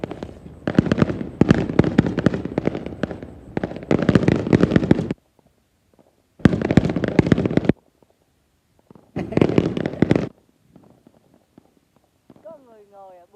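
New Year's Eve fireworks display at a resettlement area in Long Thanh, with dense bursts of rapid crackling bangs in several long volleys separated by short quiet gaps, loud and close, with voices between them.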